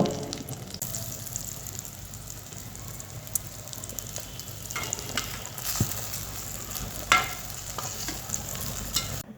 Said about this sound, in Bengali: বেগুনগুলোকে এপিট ওপিট করে সুন্দরভাবে ভেজে নেব